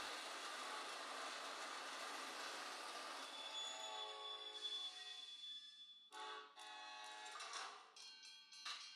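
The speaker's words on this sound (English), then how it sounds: "The train has some sound effects by default" A steady rushing rumble like a small train rolling along, then a few short whistle-like tones and clicks break in near the end: sound effects from a LEGO City 60336 Freight Train toy.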